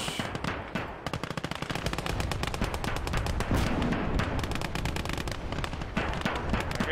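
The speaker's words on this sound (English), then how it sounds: "Artillery barrage." Artillery barrage in a Russian war video game campaign, with rapid, dense bursts of explosive fire pounding continuously and loudly for several seconds, no talking.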